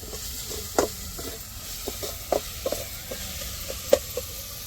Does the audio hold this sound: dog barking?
no